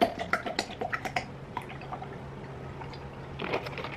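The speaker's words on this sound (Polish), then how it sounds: "Wlewamy 250 ml mleka." Milk, 250 ml, is poured into a shaker, starting with a quick run of bright liquid plinks and gurgles, then settling into a quieter, steady trickle, with no voices.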